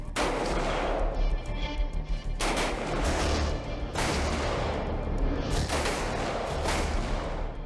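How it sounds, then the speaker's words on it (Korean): Rifle gunfire at a military shooting range during training of newly transferred soldiers and recruits, a few loud sharp shots with echoing tails spaced a second or two apart, no talk. "오늘은 새로 전입해온 인원과 신병을 대상으로 사격 훈련이 실시되는 날입니다."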